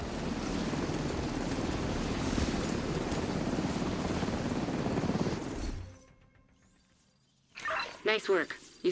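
Helicopter flying in a video game: a loud, dense rotor roar runs for about six seconds, then cuts out abruptly, leaving near silence before brief bursts of other game sounds.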